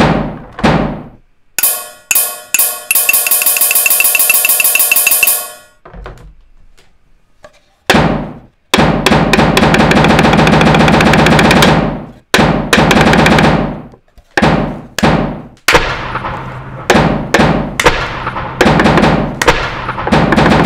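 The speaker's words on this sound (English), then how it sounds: "when I clap, it should play the gun sound. When I tap my mug, it should play the cymbal sound" Hand claps, taps on a mug and a box being opened and closed, each triggering loud sampled gun, cymbal and drum sounds in a sequence of sharp bursts, sustained ringing tones and gaps of silence.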